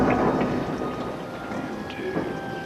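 Steady rain pours with low rolling thunder underneath in a storm sound effect, a dense hiss that stays loud throughout with no voices.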